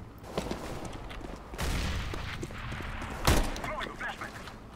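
Scattered gunshots in the shooter game CS:GO, a few sharp cracks and thumps at moderate distance, one louder close burst standing out, mixed with background game noise and chatter.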